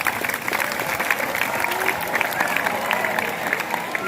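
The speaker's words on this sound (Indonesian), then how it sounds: "Tepuk tangan dulu dong semuanya." Steady applause from a crowd, many hands clapping together at an even level throughout, with no pause.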